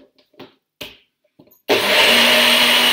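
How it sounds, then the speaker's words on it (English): A blender starts up loudly after a few soft clinks and clatters, then runs steadily with a harsh, grinding whir crushing ice for iced coffee until it cuts off abruptly. "And then I'm going to whiz it in the blender."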